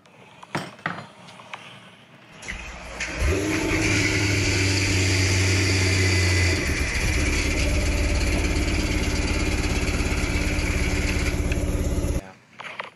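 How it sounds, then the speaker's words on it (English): A supercharged barn-find car sits in reduced-power limp mode, its engine starting after a few clanks and idling loudly with a rough, steady drone for about nine seconds before shutting off. "So your car's in limp mode then?"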